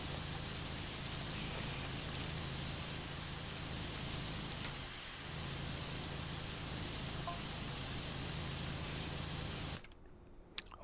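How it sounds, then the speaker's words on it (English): A pressure washer sprays steadily in PowerWash Simulator 2 while cleaning up a mall, a constant broad hiss lasting about ten seconds before cutting off abruptly. "let's spray the top of this"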